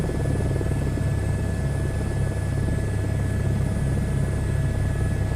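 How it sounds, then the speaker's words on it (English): Helicopter flying in a VR helicopter game, a steady loud rotor and engine drone that holds constant throughout with no pauses and no speech. "helicopter looks like it's flying right."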